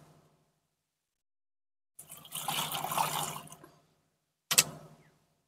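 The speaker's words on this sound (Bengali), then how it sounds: "আমি খুব ভালো করে কলাগুলোকে ধুয়ে নিয়েছি।" Raw green bananas are rinsed in water, a rushing, splashing burst of a couple of seconds followed by a short second splash, with quiet gaps and no talk.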